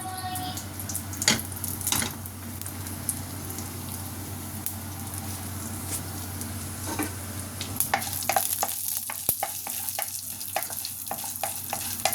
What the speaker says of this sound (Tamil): இப்போ கீரை தாளிக்க போகிறோம்.